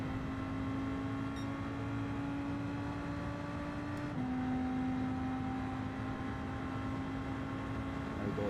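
Race car in Gran Turismo during a JT Cup round at Daytona, its engine holding a steady mid-level drone that slowly sinks in pitch, dips briefly, then settles again, fairly quiet and alone.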